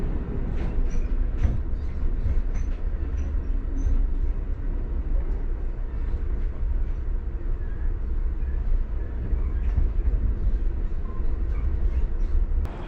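Steady low rumble and rattle of a passenger train rolling along the tracks near Winona, Minnesota, continuous and fairly loud, with faint clicks and creaks from the carriage.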